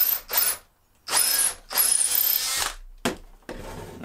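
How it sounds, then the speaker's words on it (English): A power drill bores through wood to mark hole positions, coming in several loud whirring bursts separated by short pauses, close up and with no one talking. "Now I'm just going to drill through"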